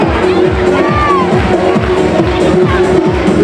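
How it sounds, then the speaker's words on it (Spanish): Loud crowd cheering and applauding at a carnival costume parade, with rhythmic clapping under a dense wash of voices and whoops. "Vamos, ese aplauso para esas medusas"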